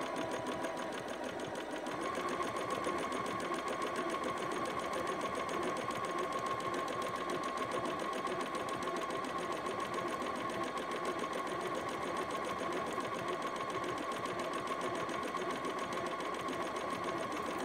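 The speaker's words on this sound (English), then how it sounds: "this stitch takes a little longer because it's doing a pattern" A Bernina Activa 130 sewing machine stitches a decorative flower pattern, giving a steady, close mechanical whir that runs evenly for about sixteen seconds after a short, quieter start, with no talking.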